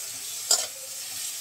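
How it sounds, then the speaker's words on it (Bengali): Chicken pieces frying with ginger garlic paste in a pan, giving a steady close sizzle broken by a single quick scraping stir. "মুরগিটা এখানে হালকা ভাজা হোক"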